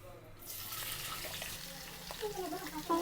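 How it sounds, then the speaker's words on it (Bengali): Sliced bitter gourd (karela) frying in a pan on a home kitchen stove, a steady close sizzle with faint stirring scrapes and a soft clatter near the end, with no talk. "এখন আমি করলা ভাজি দিয়ে দিচ্ছি চুলায়"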